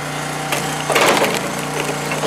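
Allwood hydraulic log splitter with its engine running steadily while a knotty log splits, a woody crack and splintering burst rising over the constant motor drone.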